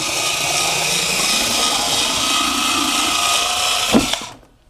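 VEVOR 3.6 V cordless electric fabric scissors running close up as the blade cuts fabric, giving a steady motor whine that holds for about four seconds and then stops with a brief clunk.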